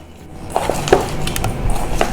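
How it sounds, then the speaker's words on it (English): Sliced onions crushed and squeezed by hand in a kitchen bowl for Maharashtrian golyachi aamti, giving soft squishy crackles and a few sharper clicks of dish contact over about two seconds, close and moderately loud, with no talk. "now you have to crush the onions with your hands"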